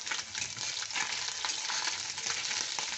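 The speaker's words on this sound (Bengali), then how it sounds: "এই যে এরকম ঝরঝরে করে ভেজে নিতে হবে।" Small kakchi fish frying in oil in a wok give a steady, crackling sizzle with light stirring noises, moderately quiet and constant, no voices present.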